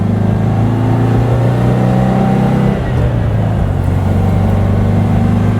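A 1958 Porsche 356 A 1600 Super Speedster's engine drones loudly and steadily at close range, its pitch shifting partway through as the revs change, with no voices.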